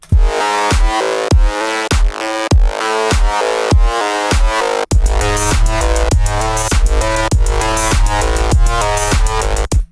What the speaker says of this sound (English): the cyberpunk type bass thing I made